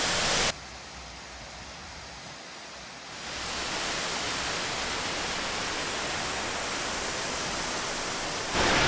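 A waterfall beside the botanical gardens in the Azores gives a steady, dense rushing roar that fills the whole clip, swelling slightly louder partway through with no voices.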